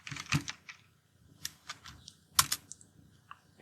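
Fingers tap on a computer keyboard in quiet, irregular bursts of crisp clicks, close and alone.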